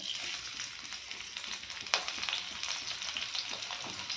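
Chopped onion fries in a pan with a steady, close crackling sizzle, broken by a brief scrape or tap partway through, with no voices.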